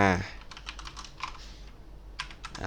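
Fingers type on a computer keyboard while Python code is being written, bursts of close, crisp key clicks in quick irregular runs, briefly preceded by a voice.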